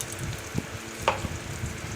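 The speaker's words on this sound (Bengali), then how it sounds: "সেই মাছ ভাজার তেলটার মধ্যে আলু বেগুনটাকে লাল করে ভেজে নেব।" Potato and eggplant pieces fry in leftover fish-frying oil in a pan, giving an even, close sizzle broken by a few soft stirring taps.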